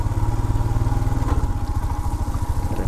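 A motorcycle engine labors loudly and close on the Baralacha mountain pass between Darcha and Sarchu, its steady rhythmic thrum shifting in pulse partway through as the rider changes into second gear, with no talk.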